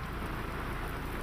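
Heavy rain falls with strong wind in Lathi, Amreli district, Gujarat: a steady, dense, broadband hiss that holds at an even level for the whole stretch, with no voices over it.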